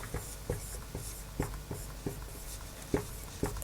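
Chalk or marker tapping and scraping on a board during an English language lesson, in a steady series of short strokes under a faint room hum, with no talking.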